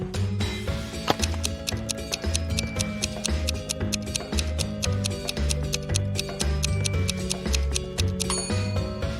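A clock ticking in a steady, even rhythm, crisp and close, with a faint low hum beneath it and no voices.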